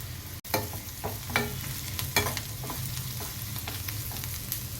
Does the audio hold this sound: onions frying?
yes